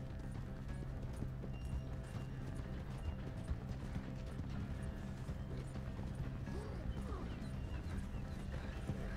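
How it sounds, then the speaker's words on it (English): A horse gallops at speed in Red Dead Redemption 2, its rapid hoofbeats drumming steadily throughout over game background sound, with a brief whinny possible. "my horse won't go any faster. There you go. Now he's getting some speed."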